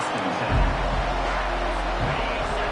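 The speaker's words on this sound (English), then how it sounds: "This crowd bringing the energy and noise early." A roaring stadium crowd at a college football game, Virginia Tech against USF, fills the clip with a steady wash of cheering and noise, loud and continuous throughout.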